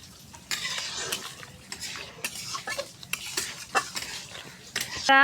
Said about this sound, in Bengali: আমরা মশলাটা ভালোভাবে কষে নেব